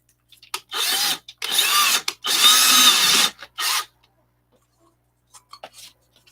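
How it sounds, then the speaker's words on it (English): A power drill runs through a series of drill bits, with three or four loud whirring bursts of about half a second to a second each, separated by short pauses, followed by quiet with a few faint clicks. "I'll just keep running through them until I use up every one of these drill bits."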